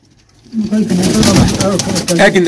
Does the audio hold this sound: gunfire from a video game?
no